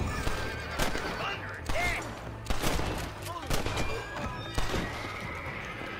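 Gunshots in the video game Red Dead Redemption, a rapid run of sharp cracks mixed with a horse whinnying, loud and close, with someone talking over it.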